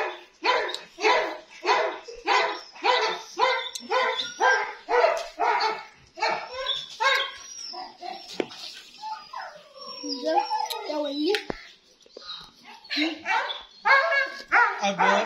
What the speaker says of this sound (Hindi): ये बहुत प्यार करने वाला कुत्ता है साइबेरियन हस्की